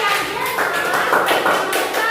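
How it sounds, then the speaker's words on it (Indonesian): Pupils in a classroom clap for a student named Andi, a short burst of close, uneven hand claps over a murmur of voices. "Tepuk tangan untuk Andi."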